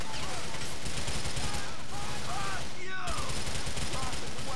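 Gunfire in Grand Theft Auto IV, a loud run of sharp shots with a brief pause near the middle, over game sound and background noise.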